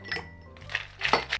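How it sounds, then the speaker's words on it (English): A martini is stirred with ice, the cubes clinking and rattling against the glass in a few quick bright strokes, close and clear with no talk. "So we're going to ice this up and stir."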